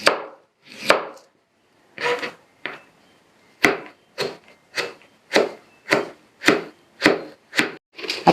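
Carrots chopped lengthwise with a knife on a cutting board, a steady series of about a dozen close, sharp knocks spaced roughly half a second apart, with no talking.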